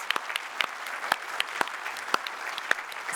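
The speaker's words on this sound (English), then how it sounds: "let's give one more round of applause" An awards ceremony audience applauds with steady, dense clapping, sharp individual claps popping out of the continuous crowd patter, filling the room at close range without a break.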